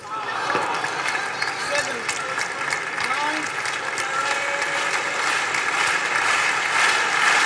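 A crowd applauds at a table tennis match in Dortmund, Germany, dense sustained clapping throughout, close and loud, with a commentator's voice running over it.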